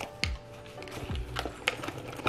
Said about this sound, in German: hier hat sie noch einen Reißverschluss, einen ganz kleinen.